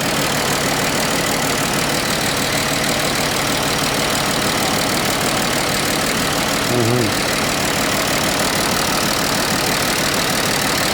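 A Mercedes W210 car engine idles loudly and close by with a steady, slightly uneven rumble that holds for the whole stretch, a possible ignition-coil fault in one cylinder.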